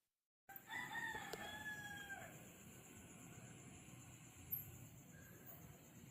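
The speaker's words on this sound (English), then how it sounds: "That rooster didn't sound very healthy." A rooster crows before dawn, one strained, rough-sounding call at moderate distance, followed by a quiet, steady outdoor ambience with faint background hum.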